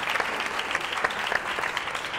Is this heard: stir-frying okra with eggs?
no